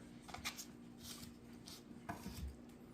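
Knife slicing through tender smoked Texas-style beef brisket, with soft repeated cuts and faint board taps, quiet and close, no talking.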